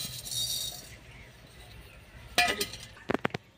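A metal kadai (wok) is set down on the stove in a home kitchen, giving one sharp clank and then a few quick light metallic clinks after a quiet stretch.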